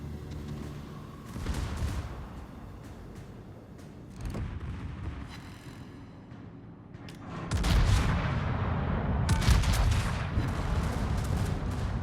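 Heavy naval guns of a German warship fire in a naval combat video game, several deep booming salvos with rumbling echoes, a cluster early on and a louder sustained barrage toward the end, without talk.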